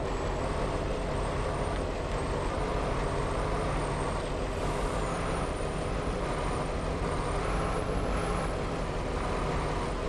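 A truck engine in the Farming Simulator 19 video game drones steadily and loudly throughout, with a constant low rumble and a faint high whine above it.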